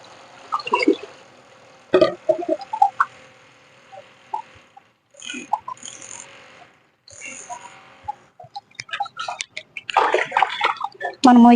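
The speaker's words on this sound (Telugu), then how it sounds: "నార్మల్ వాటర్ కూడా తీసుకొని వీటిలోని మిక్స్ చేసుకోండి" Plain water is poured into a mug of strained liquid and mixed, giving short bursts of splashing and sloshing separated by quiet gaps. A brief vocal sound comes partway through.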